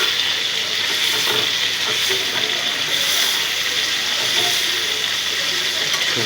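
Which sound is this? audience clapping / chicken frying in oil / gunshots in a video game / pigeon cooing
chicken frying in oil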